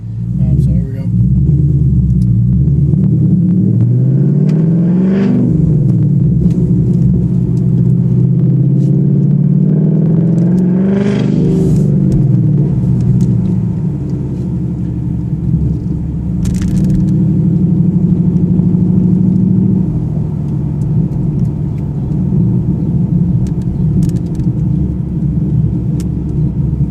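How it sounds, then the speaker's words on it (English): A 2015 Ford Mustang GT fitted with Flowmaster Outlaw axle-back exhaust drones steadily from inside the car. The engine rumble rises and falls through a couple of revving swells over the full stretch. "I'll probably get an outside exhaust video later"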